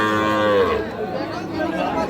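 Sahiwal cattle at a livestock market give a drawn-out, loud moo near the start, which fades into a steady murmur of market chatter and background noise.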